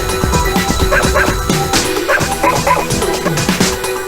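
Cartoonish dog barks and yips from the video game Cosmic DJ, repeated short bursts over a busy, loud electronic music backing that runs throughout.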